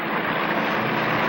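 An airplane engine roars overhead in trouble, heard as a loud, steady, broad rushing drone that holds without pause through the short moment.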